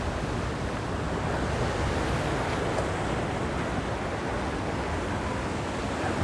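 Loud, steady roar of ocean surf breaking against a rocky shoreline at the Watu Lepek fishing spot in Malang, with wind buffeting the microphone throughout and no pauses in the wash of water.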